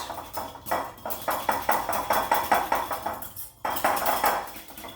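A whisk beats homemade salad dressing of syrup, salt and pepper in a bowl, making a steady run of quick, light clinking strokes. A brief pause comes near the end before the rhythm picks up again.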